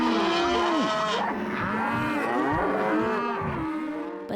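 Cattle mooing loudly and close, several long drawn-out lowing calls overlapping one another across the whole stretch, with no other sounds.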